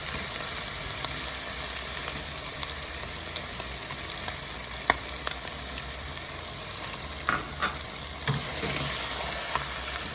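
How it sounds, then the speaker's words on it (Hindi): Fried chicken sizzling in a pan as a cup of yogurt is stirred in for a silky gravy: continuous hissing frying noise, with sparse spoon scrapes and knocks growing more frequent near the end, and no voices. "अब मैं इसमें 1 प्याली जो दही की डालूंगी"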